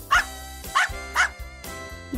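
A dog gives three quick, sharp barks in a row, then a softer fourth, over light background music, with no voices.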